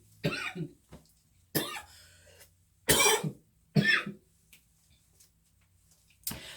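A person coughs in a series of sharp, close bursts, about five harsh coughs spaced irregularly across several seconds with quiet gaps between them.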